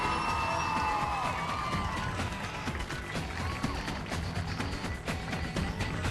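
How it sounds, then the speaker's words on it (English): An arena crowd at a televised robot combat competition cheers and applauds for a small 91-pound robot, a busy roar of claps and whoops with some mechanical clatter underneath, fairly even throughout. "Give a round of applause for Debbot."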